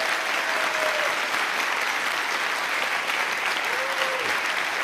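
A studio audience claps and cheers in sustained, even applause that fills the whole stretch, with no other voices standing out.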